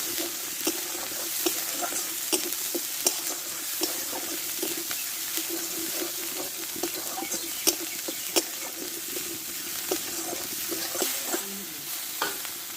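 Masala with turmeric, cumin and coriander powder fries in a pan for an egg and potato curry, with a soft continuous sizzle and repeated clinking stirs and scrapes close by, without talk.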